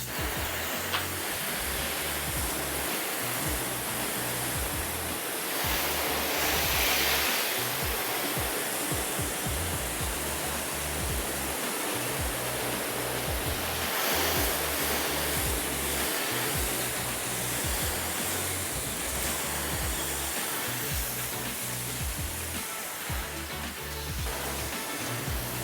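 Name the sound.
rinsing soap off a car hood with water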